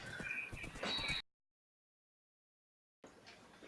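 Horse in the Minecraft video game giving a short whinny with clip-clop sounds, then a stretch of silence before faint game noise resumes.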